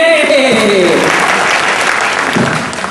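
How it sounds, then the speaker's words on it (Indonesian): An audience at a humorous training session breaks into loud, sustained applause, dense clapping filling the room for a few seconds while a voice carries over it. "Tepuk tangan dong."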